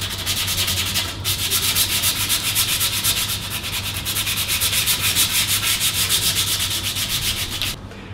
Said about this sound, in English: Okay, so we finished sanding.